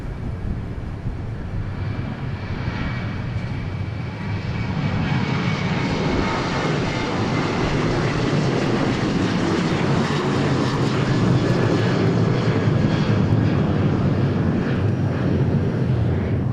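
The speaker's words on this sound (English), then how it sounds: "we got one taking off and we got one landing here" A plane taking off at Dallas Love Field gives a loud, steady, broadband engine roar that swells after the first few seconds and holds strong to the end, with a faint whine running through it and no talking.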